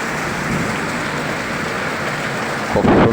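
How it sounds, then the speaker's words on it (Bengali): Heavy rain pours in a dense, constant hiss close by, and a low thunder rumble swells near the end; no one speaks. "খুব সুন্দর বৃষ্টি হচ্ছে"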